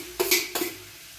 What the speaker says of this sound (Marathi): शिमला मिर्च टाकतोय आता